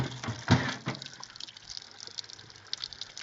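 Spring water from a rural cabin's supply line running into an aging bucket at a moderate, steady flow, a soft continuous trickle with a few splashy spurts, close and alone.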